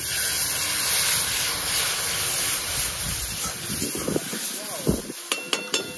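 Water poured into a hot pan of khichuri sends up a loud, steady hiss of steam, easing off toward the end as scraping clicks come through and people talk nearby.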